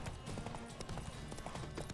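Horse hooves clip-clopping in The Witcher 3 fantasy video game, a steady rhythmic trot heard close and continuous under game ambience, with brief voices in the background.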